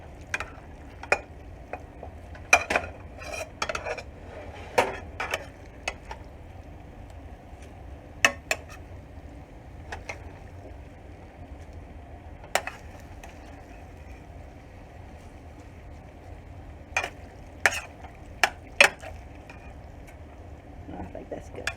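Hamburger with tomatoes and onions is stirred in a frying pan, giving scattered spoon scrapes and clinks over a faint, low sizzle, quiet and close.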